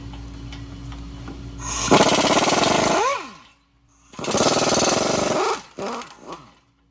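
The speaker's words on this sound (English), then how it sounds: "Next, we're going to remove the 2 21mm bolts that hold the caliper anchor on." Power tool on the two 21mm caliper anchor bolts of a Ford F150 during a leveling kit install: two loud, close bursts of rattling hammering, each ending in a falling whine as it spins down.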